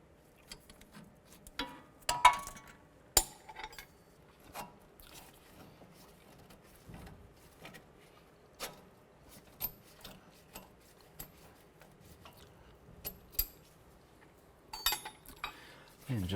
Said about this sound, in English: use a 14mm socket and a wrench and remove the